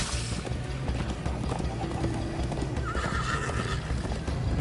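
A horse in the video game Minecraft Story Mode gallops with rapid, steady clip-clop hoofbeats and lets out a loud whinny partway through, under busy game noise.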